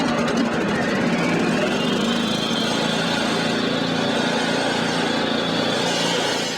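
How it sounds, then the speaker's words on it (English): A power-driven masonry saw for cutting paving stones runs outdoors with a loud, steady engine drone that holds at constant volume throughout. "This power-driven masonry saw can be rented from your Cambridge distributor"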